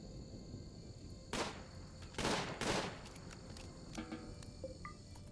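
Gunfire in the colony-building game Rimworld: a few separate broadband shots or short bursts in the middle, moderately loud over a steady ambient bed with insect-like chirping, no talking.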